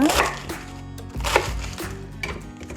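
A knife chops vegetables for kimchi on a cutting board, giving several sharp, close knocks in an uneven rhythm with brief pauses between cuts and no voices.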